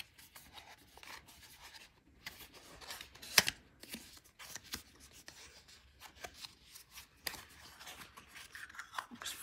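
Rolls of washi tape are handled and turned over close up, giving soft scraping, rubbing and rustling with a few sharper clicks, fairly quiet and without talk.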